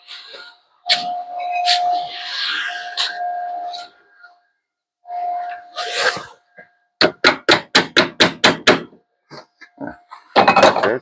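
A run of about eight sharp, evenly spaced hammer strikes rings out close by during work on a Triumph TR7, preceded by scraping and clattering handling noises.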